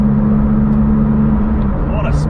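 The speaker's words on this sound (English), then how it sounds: "That's about half throttle, and you can really feel the pull. You can really feel the turbo spooling up." Porsche 911 996 GT2 Clubsport pulling at about half throttle, a loud droning engine note under cabin noise with a rising whistle of the turbo spooling up near the end.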